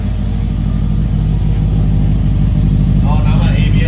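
A Subaru WRX engine with a leak near the downpipe runs close by with a deep, throaty rumble, rising slightly as it revs, while a person talks over it.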